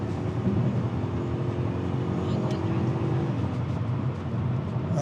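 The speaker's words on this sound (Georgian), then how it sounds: "ვიხლოპის ხმას უსმენ" A factory-stock BMW 840Ci E31 accelerates, its exhaust and engine giving a smooth, continuous drone heard from inside the cabin as the pitch climbs gradually. A voice murmurs underneath.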